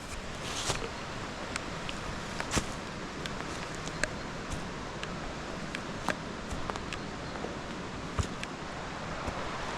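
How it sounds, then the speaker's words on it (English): A waterfall still running well near a mansion and bridge gives a steady, fairly faint rushing roar outdoors, broad and continuous with occasional sharp ticks and gusts. "So you can hear the waterfall from here. It's quite loud, because it's still running quite well."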